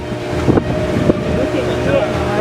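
Boat engine drone on a sightseeing trip by water in Indonesia, a steady low hum with wind buffeting the microphone, with people talking nearby over it.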